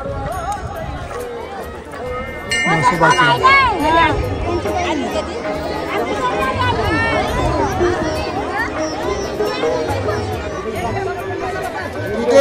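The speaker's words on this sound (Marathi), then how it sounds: "रात्रीची भरपूर गर्दी आहे" A large night-time crowd fills a village Mhasoba temple festival during the mahapuja feast, with dense, continuous chatter and overlapping voices, including children's, close by and steady throughout.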